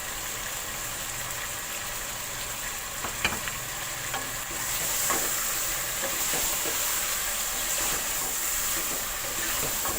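Chicken and three medium tomatoes frying in ghee for bhindi gosht, a continuous moderate sizzle with occasional stirring clicks, growing a bit louder and brighter midway.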